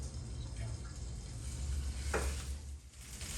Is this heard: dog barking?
no